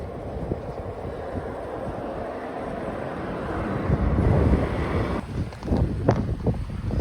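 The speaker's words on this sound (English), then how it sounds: "Maine is very windy here at Reedy." Strong wind blows across a lake shore in Maine, a steady roaring buffet on the microphone that grows gustier toward the end, with no voices.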